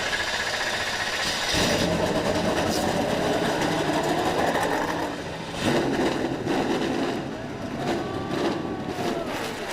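NASCAR stock car engines fire up and idle at a Kansas race, a loud, steady mechanical drone that swells after a couple of seconds and holds with slight dips, close and continuous without talk.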